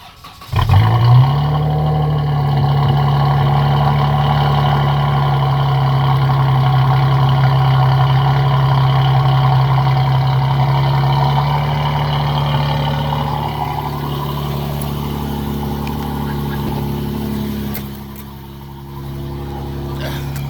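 A car fitted with a Borla S-Type stainless steel cat-back exhaust with quad rear exits starts up with a loud roar, then settles into a deep, steady, throaty idle heard close behind the vehicle, its level dropping slightly near the end.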